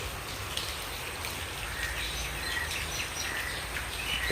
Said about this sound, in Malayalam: ഇപ്പോഴും മഴ പെയ്തുകൊണ്ടിരിക്കുക